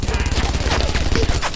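Dense rapid gunfire in the World War II shooter Brothers In Arms: Earned In Blood, loud and continuous like a fusillade of rifle and machine-gun fire, with voices shouting underneath.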